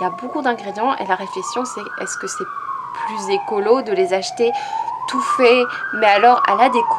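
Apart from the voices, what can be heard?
emergency vehicle siren passing in the city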